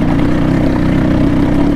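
A CX 250 SE motorcycle engine runs close by at a steady idle, producing an even, low, throbbing rumble with no clear revving, heard alone.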